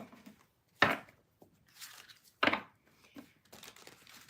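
Tarot cards being shuffled by hand, giving two sharp riffling bursts between softer papery rustles and handling sounds, close and fairly quiet with no talking.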